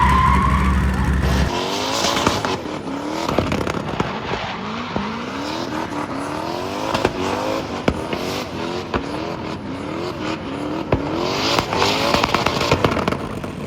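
A race car spins fast with repeated tire squeals and skids over loud, continuous engine noise, the pitch sweeping up and down through the whole run.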